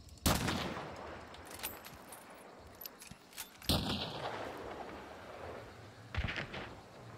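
Gunfire in the video game Hunt: Showdown: a few sharp, distant-sounding shots spaced seconds apart, each followed by a rolling echo over a quiet background.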